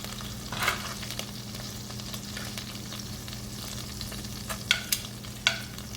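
Beef pieces for pepper steak searing in a hot pan, a quiet steady sizzle broken by a few sharp crackles and spits, with no voices.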